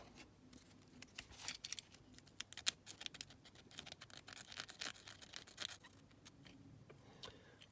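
Dirt and paint get scraped off a Lesney King Size die-cast model in quick, scratchy strokes up close, with irregular rasping bursts and brief pauses and no talking.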